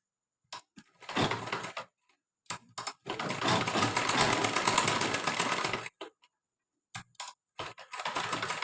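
A sewing machine stitching a lehenga blouse runs in short bursts, with one long steady whirring run in the middle and brief starts and stops around it, close and clear with no talk.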